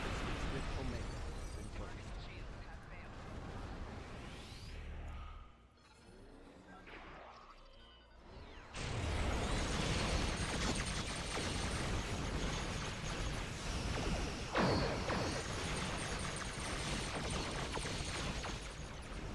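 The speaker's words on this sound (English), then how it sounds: "We love seeing those explosions" Video game explosions burst and rumble amid dense game noise, with a sudden loud blast partway through and another sharp hit later, while a voice talks over the action.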